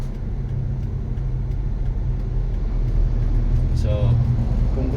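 Steady road traffic with cars passing close by outside a manual car pulling out, a continuous low rumble of engines and tires at fairly constant loudness, growing slightly heavier toward the end.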